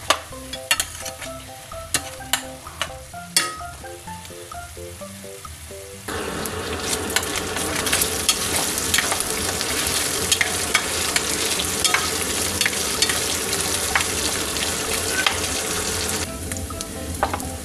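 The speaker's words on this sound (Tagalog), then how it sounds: "I-pan fry ko itong pork hanggang sa maging golden brown siya." Pork pan-fries in hot oil until golden brown, a dense, continuous sizzle that swells louder partway through, with occasional scrapes and clinks of stirring in the pan close by.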